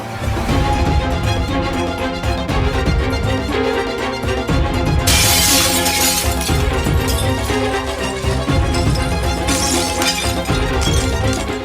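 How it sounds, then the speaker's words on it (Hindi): The glass window of a parked car near a hospital smashes in a sudden loud burst midway through, set against constant dramatic music from a TV drama. "हॉस्पिटल के पास एक खड़ी गाड़ी का शीशा तोड़ दिया"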